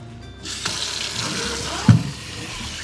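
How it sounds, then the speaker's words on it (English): A water-saving aerating kitchen tap turns on and runs in a steady close hiss while chilies are rinsed under it, with a brief clunk as the stream is moved and no talking. "And this is a water-saving tap,"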